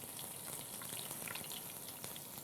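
Onions frying in coconut oil, a dense continuous sizzle with crackling pops, close and steady, no voices over it.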